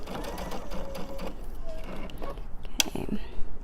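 A sewing machine back-stitching fabric for an elephant stuffed animal, a close mechanical whirring run with brief stops, heard under a person talking.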